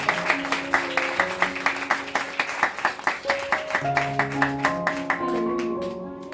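A church congregation claps in a steady, even rhythm during a Father's Day sermon. The sharp hand claps are close and regular, with sustained musical notes ringing along behind them.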